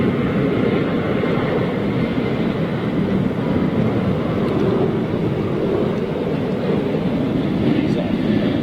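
American Airlines Boeing 777 taking off at Heathrow Airport, a broad steady jet roar heard from a distance, continuous and moderately loud with wind buffeting the microphone.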